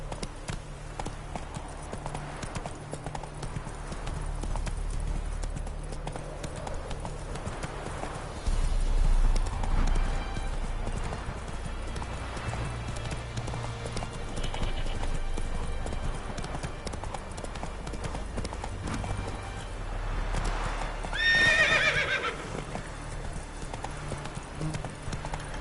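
Roach the horse from The Witcher 3 gallops with continuous rhythmic hoofbeats, loud and close, and a brief whinny near the end.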